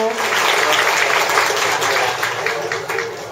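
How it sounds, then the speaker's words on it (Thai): Wedding guests clapping for the bride and groom at an evening wedding reception, a steady, dense wash of applause lasting a few seconds, with voices mixed in underneath. "ขอเสียงปรบมือให้กับผู้บ่าวสาวด้วยนะคะ"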